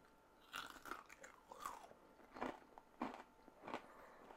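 Crispy oven-baked bacon chips crunch as they are bitten and chewed, about five sharp crackling bites spaced roughly half a second apart, close and fairly quiet, with no talking.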